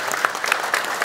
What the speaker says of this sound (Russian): Юрий Владимирович Бегалов, ваши аплодисменты